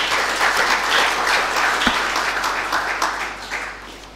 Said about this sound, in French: Nous pouvons encore applaudir